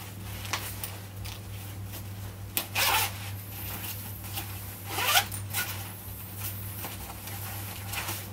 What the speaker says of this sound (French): fermeture éclair ici.